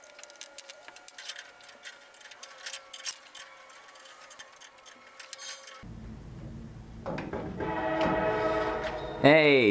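A passing train sounds its horn, first as distant sustained tones over clanking, then louder rumbling as it nears, ending in a strong close horn blast.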